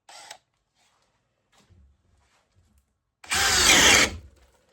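A DeWalt DCD803 drill driving a 1-inch paddle bit into wood gives a tiny whir at the start, then one loud, close grinding burst lasting about a second after near silence.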